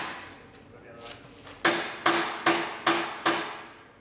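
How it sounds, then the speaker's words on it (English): Hammer blows knocking a stuck part loose while stripping a 2015 Mustang GT S550, five sharp metallic strikes in an even rhythm after a quieter lead-in. "Had to hammer it loose a little bit"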